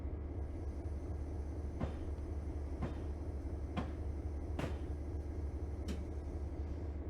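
Clinchfield Railroad F unit diesel train hauling empties in Train Simulator 2020, a steady low rumble and drone with a few sharp clanks and knocks from the cars at irregular intervals.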